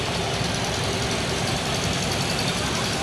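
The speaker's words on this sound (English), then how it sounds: "a bunch of old tractors going by here" Old farm tractors, among them Ford models such as a 1972 Ford 8600, rumble past in a county fair parade, a continuous loud engine drone with low knocking idle throb, close by and steady.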